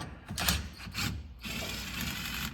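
Ratchet with a 10 mm socket loosening a hose clamp on a Mazda Miata being built as a spec race car, close up and alone: two short bursts of rapid clicking, a brief pause, then a longer steady run of clicks.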